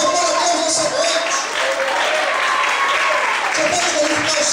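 A church congregation applauds during an evening service on Exodus 14, a loud sustained roar of clapping and crowd noise with voices mixed in, steady throughout.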